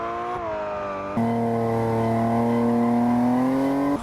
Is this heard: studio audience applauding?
no